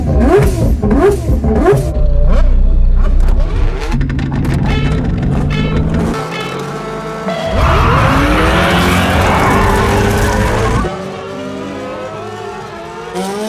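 Head-to-head race between an F1 car, a rally car, a drift car and a truck: loud engines rev and roar in rising sweeps, with tire squeals and skidding bursts, shifting pitch as vehicles accelerate and pass close by.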